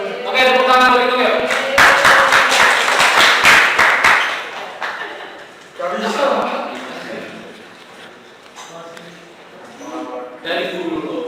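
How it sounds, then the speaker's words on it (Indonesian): A classroom of students clapping, with a burst of loud, fast clapping early on that fades into scattered claps, mixed with talking and laughter. "Oke, tepuk tangan buat itu ya."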